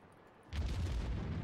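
A single heavy naval gun salvo from the Baltimore in World of Warships booms out after half a second of quiet, followed by a loud, rumbling roll that lingers for the rest of the moment.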